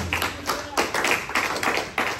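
An audience claps at a spirituality question-and-answer session, a run of fairly loud, rhythmic claps in quick, even pulses.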